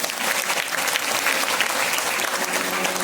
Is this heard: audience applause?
yes